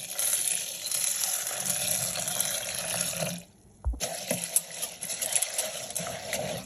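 Lentils (masoor dal, chana dal and moong dal) being washed by hand in water, steady splashing and swishing with a brief quiet pause midway, close by and without talk.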